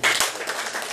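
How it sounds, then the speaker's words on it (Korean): An audience at a group-building seminar breaks into brief, dense applause to welcome a company president, the clapping close and steady for about a second. "뜨거운 박수 한번 부탁드립니다."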